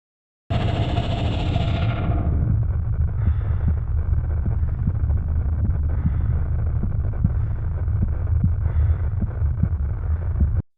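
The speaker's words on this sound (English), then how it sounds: "a heartbeat, and Geiger counter static." Game audio built in Unreal Engine with Wwise, where a filter strips the mix down to a steady thudding heartbeat and Geiger counter static, both continuous and close, following a brief louder burst at the start.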